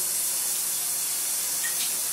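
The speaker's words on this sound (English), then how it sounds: "Let me rinse our sauce bowl out." Tap water runs in a steady, close hiss as a sauce bowl is rinsed under the faucet, a short continuous wash with no talk.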